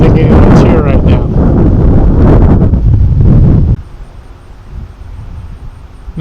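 Strong breeze buffeting the microphone at an outdoor fixed-wing RC flying field, heavy roaring gusts for several seconds that suddenly drop to a softer, steady wind rumble.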